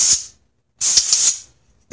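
Short hissing bursts from a spray bottle misting the end grain of wood pieces to clear dust before glue-up, one brief spray then a longer one, close and loud, with a small knock at the end.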